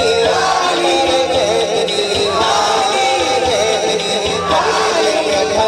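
A large crowd at a naat gathering loudly answers the Naara-e-Haidri chant, voices merging into a continuous, dense roar of shouting that fills the whole stretch.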